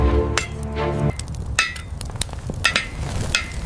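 Hammer blows on glowing iron at a blacksmith's forge: a tonal ringing strike at the start, then a series of sharp metallic impacts at an irregular pace, fairly close and moderately loud, with no talk.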